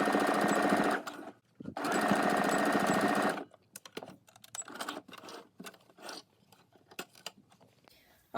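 Sewing machine stitching the edges of a handmade medieval dress in two loud continuous whirring runs, followed by scattered clicks and handling taps.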